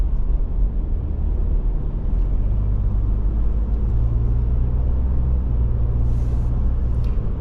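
A 2023 Ford F150 XL Rattler 4x4 rolls over rough, bumpy road, giving a steady, loud low rumble of tires and suspension inside the cab with faint thumps and no talking.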